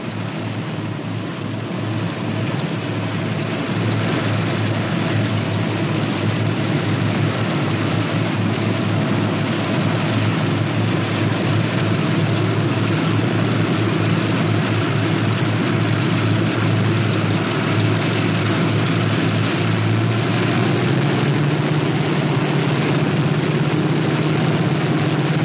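The engines of a Northrop P-61 Black Widow drone steadily while taxiing close by for the whole stretch, a constant low roar with no talking over it.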